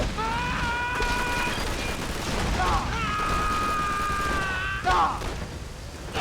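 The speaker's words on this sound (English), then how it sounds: "Who's shooting me in the back?" Gunfire and battle noise in Call of Duty: Finest Hour on PS2, a dense crackle of distant shots under sustained ringing tones, with a couple of sharper bursts.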